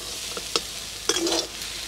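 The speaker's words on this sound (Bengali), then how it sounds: "জলটা যতক্ষণ না শুকাচ্ছে ততক্ষণ আমি কিন্তু ভালো করে নেড়ে চেড়ে যাব" Bottle gourd greens cooked with shrimp are stirred in a pan in a village kitchen, a few short scraping strokes over a soft sizzle, close and brief.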